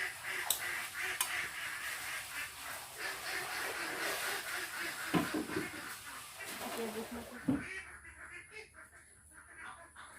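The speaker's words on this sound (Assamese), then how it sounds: "হাঁহবোৰে খুব মতে চিঞৰি আছে মানে" Ducks or geese honk and call loudly in repeated bursts at moderate distance, mixed with household clatter and someone talking over them, the calls fading out near the end.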